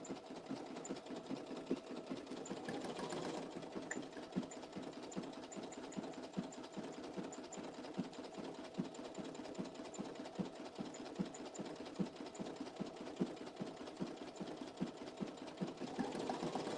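A sewing machine stitches an embossed embroidery design in a rapid, even run of needle strokes, faint and steady throughout with a slight surge near the start and end, and no talking.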